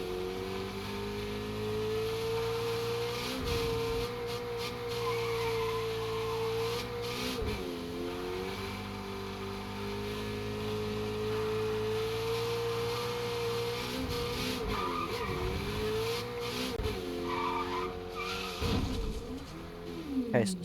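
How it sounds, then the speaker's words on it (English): A Corvette supercar in a video game drones with a steady engine note that rises and falls through gear changes and revs, running continuously for about twenty seconds with no talk. "let's hear these engine sounds"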